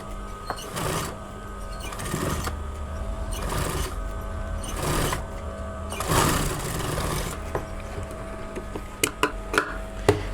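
A sewing machine stitches a buckram collar onto suit fabric in several short bursts with gaps of handling noise between them, close and moderately loud, ending with a few sharp clicks.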